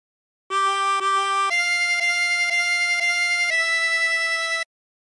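A 24-hole tremolo harmonica plays a phrase of the Yellow Rose of Texas, a few sustained wavering reedy notes stepping upward, clear and close with no talk.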